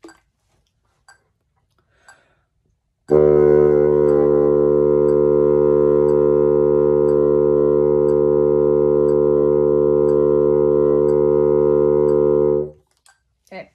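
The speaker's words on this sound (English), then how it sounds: "I'm gonna do it on a low D. I'm gonna try to get it to be absolutely in tune with the tuner." A bassoon sustains a single low D as a steady, in-tune long tone, entering after a few quiet seconds and holding evenly for about nine seconds before stopping cleanly, with no talk over it.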